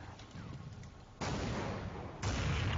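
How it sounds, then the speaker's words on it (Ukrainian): Gunfire in a Counter-Strike match on the de_nuke map comes in sharp bursts, with a dense volley at mid-clip and another toward the end, under faint background game noise. "Клер, до речі, дивіться, ставить хедшот, мінус Ямі"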